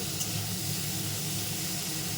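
Cauliflower frying in a pan with tempering spices, giving a steady, even sizzle and hiss that holds at a constant level with no voices over it.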